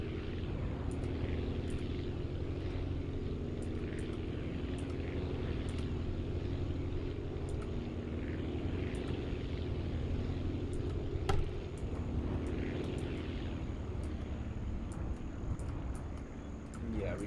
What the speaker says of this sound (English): We're gonna start by landing here.